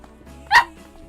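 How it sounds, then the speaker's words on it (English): A dog named Cooper lets out a single loud, sharp bark right up against the microphone, brief and close, with quiet before and after. "He's barking ever so close to the microphone"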